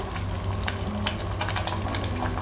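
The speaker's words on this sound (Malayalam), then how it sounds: "ഇത് നന്നായി തിളക്കണം. നമ്മുടെ മൊളൂഷ്യം തിളച്ചു." Moluciam curry, a thin Kerala-style gravy, boiling in a pan on the stove, giving a steady close bubbling and simmering hiss with small irregular pops throughout.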